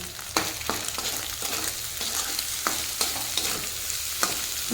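Egg and chopped capsicum stir-fry in a pan for homemade chow mein, with a constant hiss of sizzling oil punctuated by regular clacks and scrapes of a spatula. The cooking is close and heard alone, without speech.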